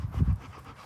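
A dog pants in short, rapid breaths close by for about a second, strongest at the start and then easing off, outdoors on rural land where a second dog is held nearby.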